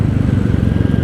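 A 2024 Royal Enfield Classic 350 motorcycle at about 70 during a front brake test, its single-cylinder engine thumping loudly and steadily close by with road rumble, no talk.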